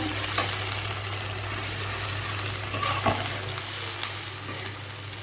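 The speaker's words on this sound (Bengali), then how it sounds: "আদা রসুন আর এগুলো সব একসাথে আমি মিক্স করে নিচ্ছি এখন" Ginger and garlic being stirred together in a hot oiled pan, a steady sizzle and frying hiss with a few sharper scrapes of a utensil against the pan, close and continuous with no talking.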